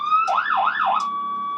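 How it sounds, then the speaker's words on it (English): A 1993 E-ONE fire truck siren wails in rising and falling sweeps over a steady tone, loud and close, with no voices. "And here we have our sirens."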